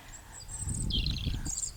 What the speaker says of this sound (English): And that you enjoy the sound of nature and the birds and the wind